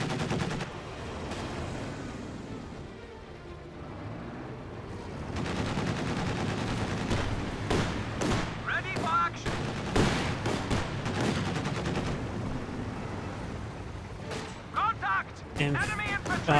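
Rifle volleys and scattered gunfire in the World War II strategy game Company of Heroes 2, sharp repeated cracks and bursts clustering mid-way and near the end, loud over a steady battle din with a commentator talking throughout.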